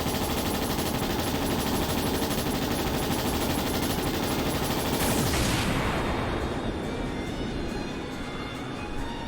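Rapid automatic gunfire from the video game Trails SC, a dense continuous burst of shots that stays loud throughout, with a sweeping whoosh passing midway and no talking.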